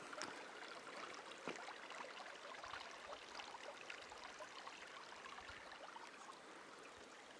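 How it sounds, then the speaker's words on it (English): A small creek flows steadily near a mountain lodge, giving a continuous soft hiss and bubbling trickle with no pauses, fairly faint and alone without talk. "Another cool little creek right here."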